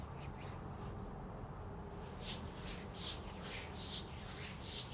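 An apothecary product is rubbed into skin up close, making a faint, continuous rhythmic rubbing with soft, repeated swishing strokes.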